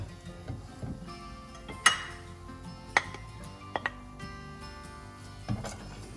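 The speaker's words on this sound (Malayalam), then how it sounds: "അപ്പം ഇത് ഞാൻ ഒരു പ്ലേറ്റിലേക്ക് പകർന്നെടുത്തിട്ടുണ്ട്" Kerala street-style beef puttu mix being moved from the pan onto a plate, heard as a few sparse, sharp clinks of utensil against dish over a quiet background.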